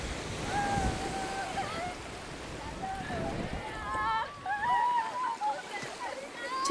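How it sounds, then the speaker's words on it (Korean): Sea waves break on a shore off in the distance, a broad steady wash of surf with wind buffeting the microphone, while people talk nearby over the continuous roar. "오랜만에 마주하는 바다, 그리고 저 멀리서 파도가 부서지는 소리."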